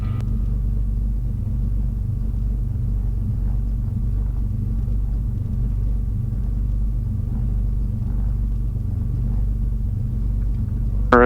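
A twin-engine Cessna 310 taxis for departure, its piston engines giving a steady, loud low rumble with droning harmonics that holds evenly throughout, heard from the cockpit with no talk.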